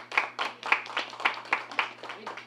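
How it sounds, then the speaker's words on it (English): A few people clap for staff at an art discussion, a small, sparse group with distinct rhythmic claps about four per second, near and fairly quiet. "our staff, who deserve our applause"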